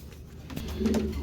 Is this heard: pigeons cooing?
yes